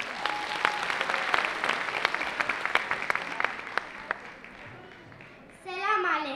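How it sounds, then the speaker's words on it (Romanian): A school audience in Tuzla, Eforie Sud and Mangalia gives steady applause, crisp claps throughout that fade out near the end before a voice begins speaking. "Haideți să-i aplaudăm!"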